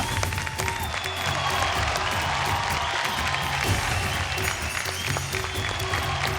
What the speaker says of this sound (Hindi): तालियां रुकनी नहीं चाहिए एक्चुअली